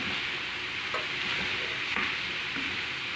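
Garlic fried rice being stir-fried in a pan, with a constant dense sizzle and occasional scraping and tossing sounds of the spatula, steady and fairly quiet.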